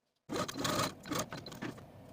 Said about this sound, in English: I'm going to take them to my machine and sew from the outer edge to the point